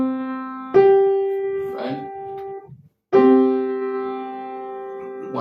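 Two struck piano intervals of C up to G, a perfect fifth, each ringing out and slowly decaying, separated by a brief pause, with a few quiet words spoken between them.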